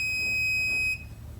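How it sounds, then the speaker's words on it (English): An oil water separator's high liquid alarm sounding a steady, piercing electronic tone that cuts off abruptly near the end, leaving a low hum. "it will trigger my high liquid alarm"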